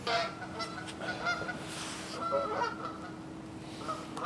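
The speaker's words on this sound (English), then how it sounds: "Dealing with geese over here." Several geese honk repeatedly at a moderate distance, overlapping calls over a steady background hum.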